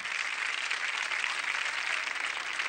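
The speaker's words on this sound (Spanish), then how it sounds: "Fuerte el aplauso para ella." Dense, steady studio audience applause at a 1986 television variety show fills the space, many hands clapping at once without a break.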